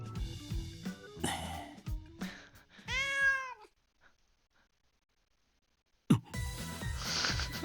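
A cat in the Shin TeniPuri video game lets out one clear, drawn-out meow over game music and effects. Then comes a short silence and a sudden thump.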